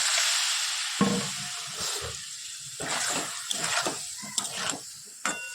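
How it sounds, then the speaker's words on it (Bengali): Soybean masala with ginger and cumin paste, chilli powder and sauce sautéing in a pan, a soft hiss broken by several sharp stirring scrapes and clinks, close up. "এই হচ্ছে সোয়াবিনের মশলা এটাকে ভালো করে একটু কষিয়ে নিই"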